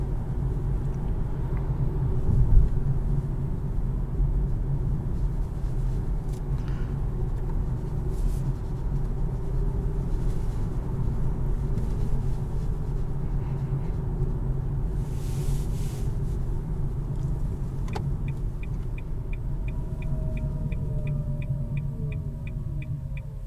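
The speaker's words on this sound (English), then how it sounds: "you can hear all the little noises the car makes" A 2020 Nissan Leaf S electric car driving on the road gives a steady low rumble and road hum from inside the cabin, with faint whirring and a brief series of soft ticking chimes near the end.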